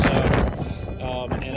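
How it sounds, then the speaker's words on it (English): Strong gusting wind buffets the microphone high on a mountain, a loud continuous roar with surges throughout. "it's very windy. Extremely."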